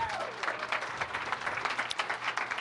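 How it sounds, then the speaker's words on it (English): Arts-night audience applauding a performer named Joshua, a brief burst of many hands clapping fairly close and steady, with a faint voice underneath at the start. "Round of applause for Joshua"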